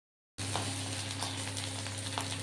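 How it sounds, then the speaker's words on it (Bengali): An onion, cumin and ginger spice paste fries in a pan, giving a soft, even sizzle that starts after a brief silence and runs steadily with faint crackles. "ভালো করে আমার পেঁয়াজ, জিরে, আদা সব কিছু আমার সুন্দর করে ভাজা হয়ে গেছে"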